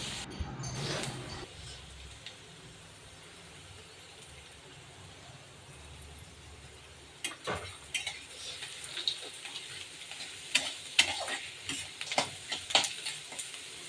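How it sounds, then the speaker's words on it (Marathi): Onion, peanuts and spices fry softly in a pan for poha. A quiet sizzle runs under a spoon that stirs and taps against the pan in the second half, with no voices. "कांदा तळताना शेंगदाणे घालायचे"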